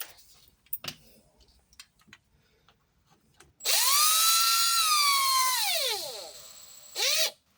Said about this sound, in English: I'm just going to barely snug it up with the drill